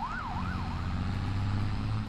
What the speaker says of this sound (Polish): O kurde, policja gdzieś poleciała na sygnałach.